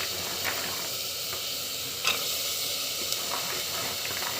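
Masala with chili powder sautéing in a pan, giving a continuous close hiss and sizzle with occasional soft stirring scrapes and small clinks, steady throughout and with no speech.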